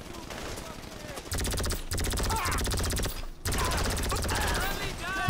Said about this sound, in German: Wir sind in der Schießerei, Mensch!